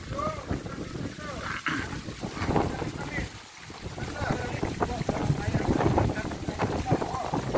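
A strong storm wind blowing with rain, rushing and gusting loudly close to the microphone with whistling tones, while people talk over it.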